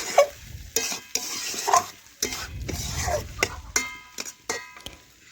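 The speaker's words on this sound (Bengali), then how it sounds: "দেখুন, দিলাম আমি টমেটো কুচি, এটাও ভালোভাবে চিকেনের সাথে মিশিয়ে নিচ্ছি।" Chopped tomato stirred into chicken in a pot over a clay stove, a spoon scraping and clinking against the pot in irregular strokes over a soft, steady sizzle.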